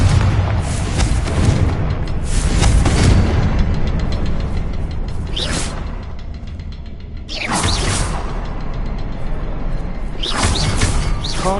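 Booming blasts from a Confringo fire spell in Hogwarts Legacy, loud and close, with rolling rumbles and whooshing bursts repeating several times over continuous battle noise, no talk.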